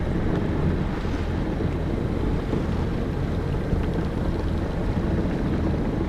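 Steady wind and water wash around a sailboat at sea on a passage from the Marquesas to Tahiti, a continuous broadband rush with light breeze noise on the microphone and no voices.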